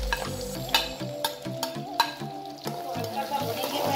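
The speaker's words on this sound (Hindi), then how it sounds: "देखिए अब हम पहले प्याज को इस तेल में डालेंगे," Onions fry in hot oil in a kadhai, giving a steady sizzle broken by sharp spoon taps and scrapes against the pan, with some faint talking.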